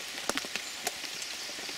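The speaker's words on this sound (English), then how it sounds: "You'll think the rain's gone off at some points when you hear Bro's camera" Rain falling outside a hunting hide, a steady patter with scattered heavier drops tapping nearby surfaces, continuous and fairly close.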